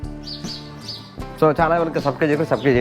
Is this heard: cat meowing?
no